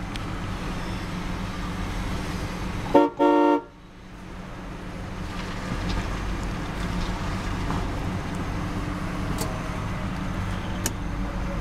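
A 1994 Cadillac Fleetwood Brougham idles smoothly just after start-up, a steady low hum broken early by one short, loud honk of the horn.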